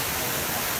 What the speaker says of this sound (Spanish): este es la fuente que representa el río Turia